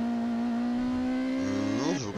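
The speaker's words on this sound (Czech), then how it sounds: "Ferrari 458 Spider." A Ferrari 458 Spider engine in a racing video game drones at a steady pitch, then revs sharply upward near the end, loud and close.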